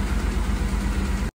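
A Toyota Crown MS100 engine idles steadily at a low, even rumble after carburetor idle adjustment, close up and alone, then cuts off abruptly.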